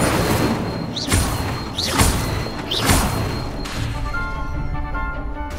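Fire spells cast in the video game Hogwarts Legacy, three sharp whooshing blasts roughly a second apart, each with a thumping impact, followed by a trailing magical shimmer.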